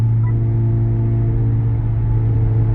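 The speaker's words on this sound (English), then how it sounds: "you're gonna kind of hear the car open up a little bit" Acura Integra A-spec with an MBRP exhaust sits in a steady, deep idle-like drone after a downshift, a loud continuous low rumble with no clear rev changes and no talking.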